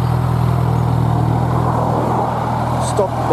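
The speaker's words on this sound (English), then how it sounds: "So I've got the double exhaust on either side. Nice little sound." A stock Kawasaki Z1000 motorcycle with a double exhaust idles steadily and fairly loud nearby, a continuous low engine hum with a brief voice at the end.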